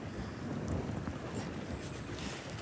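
Strong easterly wind buffeting the microphone outdoors on a Labrador brook while fly fishing for brook trout, a steady loud broadband roar with gusty rumble and no speech.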